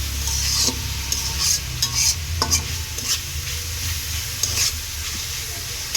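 Food fries in a pan while being stirred during a noodle recipe. A loud, continuous sizzle carries repeated close scrapes and clinks from the spatula.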